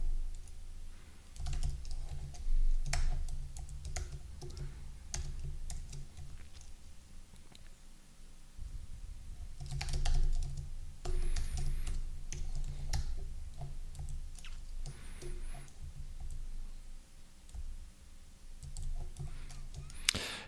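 Computer keyboard typing comes in bursts of quick clicks while code is written, with pauses between runs over a steady low hum; no one speaks.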